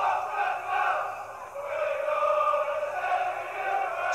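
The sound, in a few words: football fans cheering in a stadium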